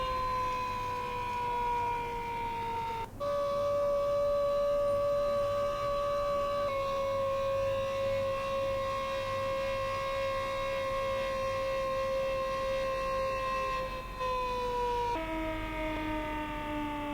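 A loud siren sounds at city intersections to halt traffic for a two-minute silence, a steady sustained wail with slow pitch steps and short dips, continuing without talk over a low background rumble.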